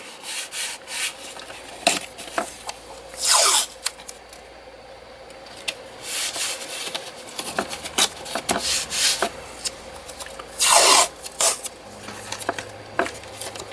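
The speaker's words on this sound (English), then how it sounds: "So I'm going to tape it off" Masking tape pulled from the roll and pressed along the paper borders of a watercolour painting of flowers, a vase and an apple, giving close, loud rips and rubbing strokes alone, with two sharp tearing bursts.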